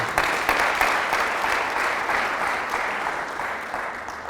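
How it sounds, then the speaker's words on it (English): An audience applauds a successful bank manager at an entrepreneurs' meeting, a steady dense patter of many hands clapping that holds for several seconds and slowly thins toward the end. "Clap for her"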